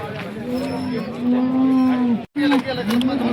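A cow moos loudly and close by in long drawn-out calls at the Sangola cow market in Maharashtra, a brief break, then another low moo, with no talking.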